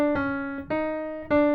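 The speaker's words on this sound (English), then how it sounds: "we simply play those 3 notes downward and then go back to the top" A pitched instrument plays three notes stepping downward, then returns to the top in a repeating five-note rhythm, each note struck clearly and ringing with bright harmonics, close and alone.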